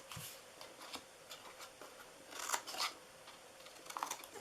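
Scissors snip through cardstock in quiet, scattered cuts, trimming pieces for a small treat box, with soft paper rustles between snips.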